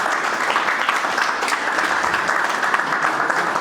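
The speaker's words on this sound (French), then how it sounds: "Est-ce qu'on peut applaudir pour ça?" A crowd at a professional certification graduation ceremony in Togo breaks into loud, dense applause. The clapping is continuous and evenly sustained from start to finish, with no voices over it.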